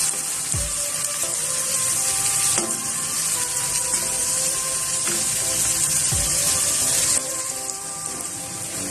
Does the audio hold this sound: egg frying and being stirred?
yes